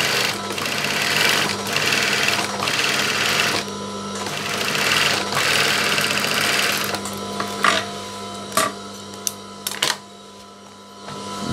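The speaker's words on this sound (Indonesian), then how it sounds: "Kemudian yang bagian sebelahnya kita jahit dari bawah ke bagian atas." A sewing machine stitches the side seam of a school skirt body from bottom to top, its steady motor whir running close and loud for several seconds before stopping into a few short, sharp bursts.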